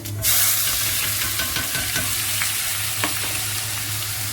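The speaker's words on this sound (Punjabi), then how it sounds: "ਅਦਰਕ ਤੇ ਪਿਆਜ਼ ਦੇਸੀ ਘਿਓ ਦਾ ਤੜਕਾ" Ginger and onion tempering sizzles steadily in hot desi ghee for lentils, a close, continuous crackling fry with faint stirring scrapes and no voices.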